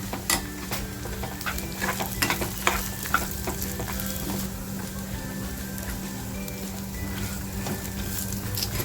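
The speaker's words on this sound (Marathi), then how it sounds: "याच्यामध्येच आपल्याला फ्राय करून घ्यायचे थोडीशी बघा खसखस टाकते" Poppy seeds and whole garam masala fry in a pan while being stirred, a soft constant sizzle punctuated by repeated scraping strokes of the spoon, close and moderately quiet.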